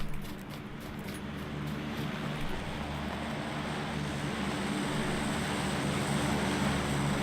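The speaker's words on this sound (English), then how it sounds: "Sounds like a plane." In the battle royale game PUBG, an airplane drones overhead as a steady, continuous engine roar that swells slightly louder over several seconds, with a few faint clicks and rattles at the start.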